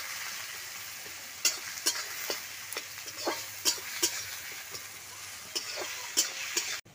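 Onions frying with salt in a pan, a steady sizzle with scattered sharp clicks and scrapes of stirring, close and moderately loud with no voices.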